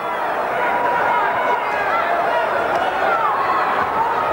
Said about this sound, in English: this crowd is so noisy you can't hardly hear it here